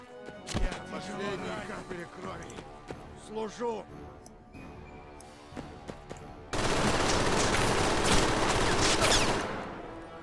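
Machine gun fire in the World War II strategy game Men of War: Assault Squad 2 at Stalingrad, with scattered shots and bursts, then a sustained dense barrage of gunfire toward the end.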